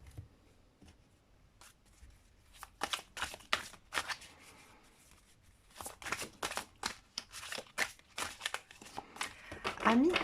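Tarot cards shuffled in bursts of crisp riffling and flicking, fairly close and moderately loud, with short quiet gaps between rounds and someone speaking at times.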